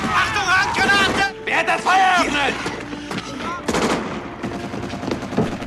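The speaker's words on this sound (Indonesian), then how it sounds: "hingga mengakibatkan baku tembak di antara mereka" Gunfire crackles through a film battle between German and Soviet soldiers, with bursts and shots mixed under shouting voices and music, fairly loud throughout.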